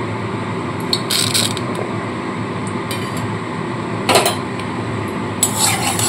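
A bay leaf, one dried chilli and whole cumin sizzle in hot mustard oil. A steady hiss runs throughout, broken by a few short, bright scraping bursts from the pan.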